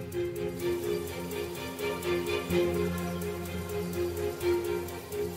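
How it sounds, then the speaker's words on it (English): Steady rain hisses across a surface in Zambia's Kafue Basin, with scattered drops pattering throughout and a low rumbling undertone, no voices present. "more than 100 trillion liters of rain swallow the Kafue Basin."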